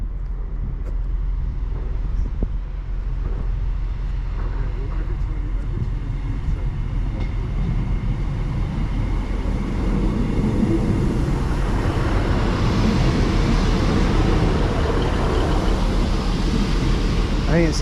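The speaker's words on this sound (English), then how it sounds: "arriving in now is the 1406 Northern service from Nottingham to Leeds" A Northern Class 150 diesel train, a pair of units running together, pulls into a station platform with a steady low rumble and rail noise that builds slightly toward the end, loud and continuous throughout.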